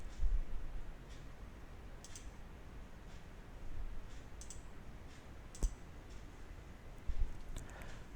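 Computer mouse clicks, faint and sparse, several single clicks spaced irregularly over a quiet background hiss, no talking.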